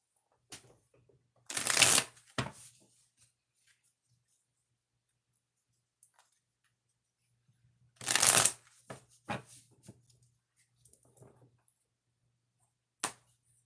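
Tarot cards being shuffled in two quick riffling bursts, separated by quiet pauses, with a few soft taps and card handling sounds in between.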